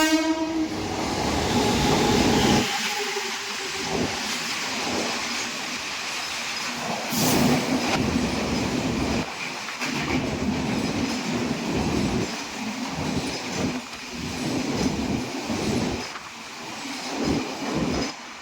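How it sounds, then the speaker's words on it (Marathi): A train rumbles past close by near Ukshi on a rainy monsoon day, a steady loud roar of wheels and carriages running the whole time with a horn sounding partway through, no voices. "तर फायनली मित्रांनो, ट्रेन पण आलेली आहे."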